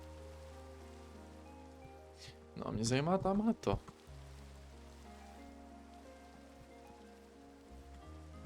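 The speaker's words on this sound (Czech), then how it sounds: "A škaredý počasí. Prší, tyjo." Rain falling in the Minecraft video game, a steady soft patter under game ambience, with someone speaking briefly over it in the middle.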